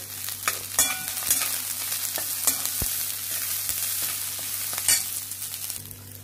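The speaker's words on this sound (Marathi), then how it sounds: "कांदा थोडासा ट्रान्सल्युसंट झालाय त्याच्यावर कोबी टाकलाय" Sliced onion and cabbage stir-fry in a hot pan for fried rice, a steady close sizzle broken by repeated spatula scrapes and clinks against the pan; no voices.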